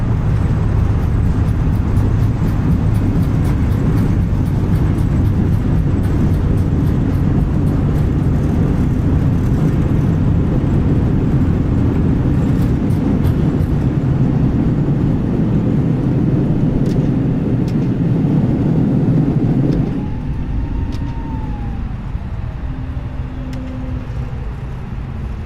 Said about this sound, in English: Reverse thrust.